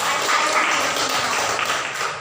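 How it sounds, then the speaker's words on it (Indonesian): Students in a classroom science lesson applaud together, a dense, steady wash of clapping that fills the short moment without pause. "Tepuk tangan dulu."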